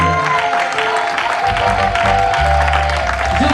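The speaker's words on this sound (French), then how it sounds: "Non, là vous acclamez pour le chantre" A church congregation applauds steadily throughout, a dense continuous clapping under organ or keyboard tones and a held sung note.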